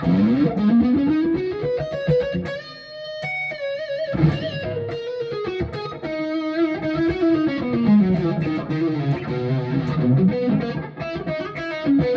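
Cort KX700 Evertune electric guitar on its neck pickup, heavily distorted, played loud and close with chugging riffs, sustained chords and melodic lead lines, no voices.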